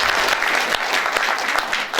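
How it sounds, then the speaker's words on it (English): Room full of volunteers at a health organization event clapping for themselves, a close, dense patter of many hands applauding steadily without talk. "please give yourself a round of applause"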